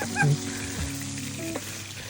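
Pieces of hilsa fish fry in hot oil in a pan, giving a steady, fairly soft sizzle with a brief clatter near the start and no talking.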